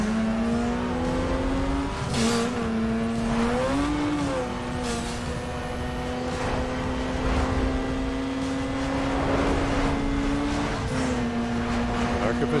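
A Mazda RX7 tuner car engine in Need for Speed Underground 2, a loud steady drone whose pitch dips and rises with brief revs and gear changes, with talk over it.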